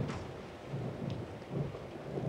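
Thunder rolls low and steady during a thunderstorm, sounding somewhat distant, with a soft wash of rain underneath and a slight swell near the end.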